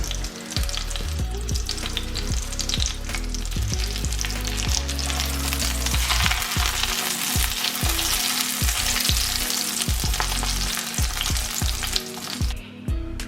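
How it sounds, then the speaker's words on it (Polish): A pork cutlet sizzles loudly and continuously in hot lard, with scraping and clattering of a pan and utensil now and then. "na gorący tłuszcz wrzucam mojego giganta i obsmażam z obu stron."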